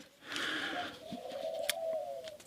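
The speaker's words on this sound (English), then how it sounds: "you can hear the birds cooing" Pigeons cooing softly nearby, one drawn-out low call following a brief hoarser sound, with no voices present.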